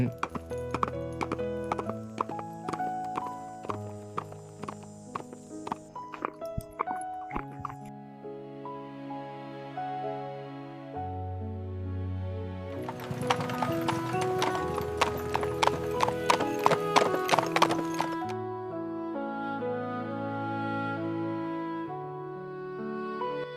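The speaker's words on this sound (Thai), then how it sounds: "ชายกลุ่มหนึ่งขี่ม้าบนถนนท่าแพ" A group of men ride horses along Tha Phae Road in Chiang Mai, with steady hoof clip-clops and an occasional whinny heard over continuous loud background music.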